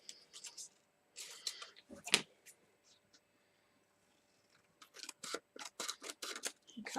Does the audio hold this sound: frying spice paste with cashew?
no